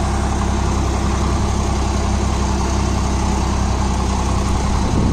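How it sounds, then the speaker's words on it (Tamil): Swaraj 963 FE CRDI tractor engine idling up close, a loud, steady low diesel rumble with a constant rapid throb and no speech. "இதில் டிராக்டரோட நாய்ஸே ரொம்ப கம்மியாக இருக்குதுங்க"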